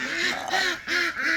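Domestic laying ducks (itik) give a few close, nasal quacks in quick succession, loud and clear with no talking.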